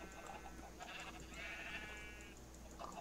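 Sheep bleat in a video game, several faint drawn-out bleats spaced across a quiet stretch, with no talking over them.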